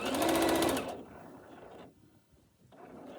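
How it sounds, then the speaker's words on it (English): A sewing machine stitches bias tape onto a shirt hem in one loud, fast burst of about a second, then falls to faint mechanical clicks and shuffling. "So let's go to the sewing machine."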